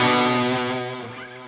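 A distorted electric guitar rings out a sustained octave note that is bent with a slide, loud and close, then fades as it decays over a second or so.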